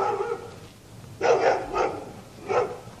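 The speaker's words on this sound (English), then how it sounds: "Dog wants to go in the camera," Three separate barks from a dog, fairly close and loud, spaced out over a few seconds against a quiet room background.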